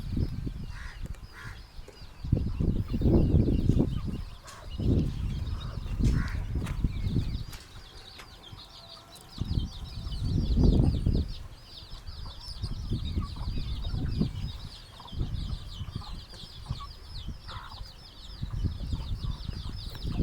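Chickens in a low-cost farm shed with a thatched roof, shared with sheep, give bursts of clucking and squawks with occasional wing flapping, loud and close against a steady high insect-like hiss.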